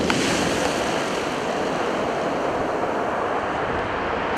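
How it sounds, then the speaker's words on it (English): Big waves break on a pebble storm beach at high water in a loud, continuous roar of surf and spray. Wind buffets the microphone throughout. "So a few big waves coming in"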